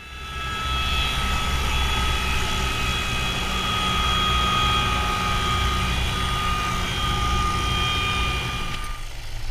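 Helicopter flying close in strong gusty wind beside a mountain hut, a loud steady engine and rotor roar with whining tones, holding constant before cutting off near the end.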